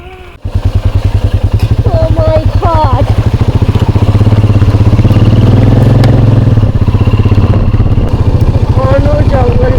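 Several motorcycles rumble loudly and steadily on a ride through dense jungle on red-earth roads around Purulia, with a voice exclaiming early on and brief bird-like chirps over the engine drone.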